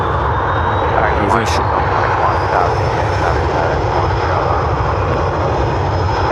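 A plane takes off from runway 10R at Dublin Airport, its engines giving a loud, steady roar that holds throughout. A voice talks over the engine noise.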